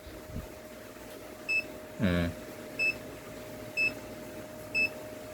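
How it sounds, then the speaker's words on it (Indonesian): Short electronic beeps from a Deli DL 334203 clamp multimeter in continuity test mode repeat at a steady pace, about one per second, clear and close, with a brief clunk partway through and a faint hum underneath. "Tuh bunyi kan, bipnya kan."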